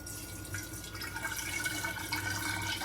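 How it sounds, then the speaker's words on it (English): Water is poured sloppily into a hookah base, making a faint, steady splashing and trickling. "We're going to take some of this water that I have prepared, and we're going to sloppily pour it in."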